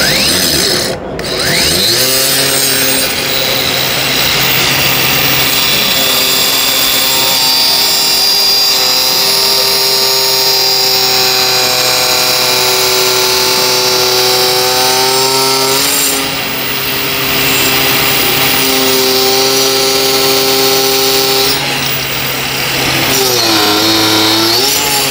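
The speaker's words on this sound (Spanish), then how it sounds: "es como si estuviera ejerciendo mucha presión sobre el esmeril y cómo va a ir subiendo el consumo de la herramienta" A Makita angle grinder runs loud and continuous at a show, its steady whine sagging and shifting in pitch as pressure on the grinding disc increases, then recovering near the end.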